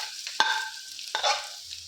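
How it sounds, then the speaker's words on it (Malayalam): Chopped onion, ginger and garlic frying in a pan, with two sharp scrapes of a spoon stirring against the pan over a soft continuous sizzle, close by and without talk. "ഇത് ഇളക്കി ഒരു ബ്രൗൺ കളർ ആവുന്നവരെ നമ്മൾ ഇളക്കിക്കൊണ്ടിരിക്കണം."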